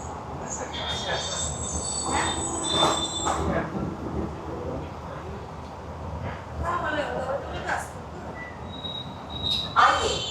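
The Krishnanagar–Sealdah AC local train rolls along the tracks, skipping Badkulla station, with a rumbling clatter and occasional high wheel squeals, while voices talk over it.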